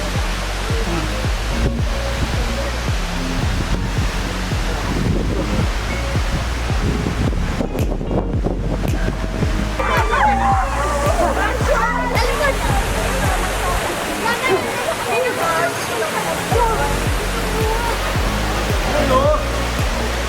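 Bomod-ok Falls in the Sagada mountains pours steadily, a dense roar of rushing water running throughout. Voices and laughter sound loosely over the torrent.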